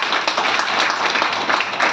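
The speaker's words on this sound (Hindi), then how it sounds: "तो इस संस्था के लिए जोरदार तालियां बजाएं।" Sustained, dense applause from an audience at a business leaders' venue closing event, loud and steady with a few brighter bursts of clapping, heard alone without talk.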